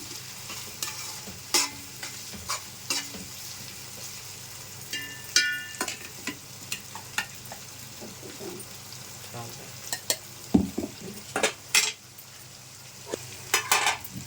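Ginger-garlic paste frying in oil for a chicken biryani, a soft continuous sizzle broken by frequent sharp stirring scrapes and clinks of a spoon against the pan, heard up close.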